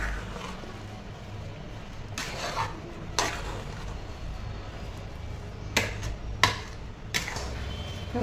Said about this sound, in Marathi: असं साखर घातल्यानंतर त्याने चमच्याने सगळं असं मिक्स करून घ्यायचं